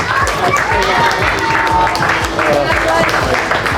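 Crowd applauding and cheering for a runner at a backyard ultra race, steady dense clapping with voices mixed in, loud and continuous throughout.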